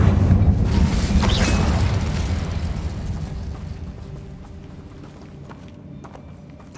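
An Incendio fire spell from Hogwarts Legacy goes off with a loud, rumbling whoosh at the start and then slowly dies away into low crackling over several seconds. No voices are heard.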